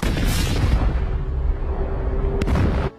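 A bomb explodes in a film scene, giving a loud, sustained rumbling blast that fades, followed by a short sharp crack near the end.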